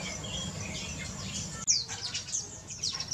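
Birds in a breeding aviary chirp and tweet in quick bright bursts, with a sharp close call midway followed by scattered rapid chirps over a low background hum.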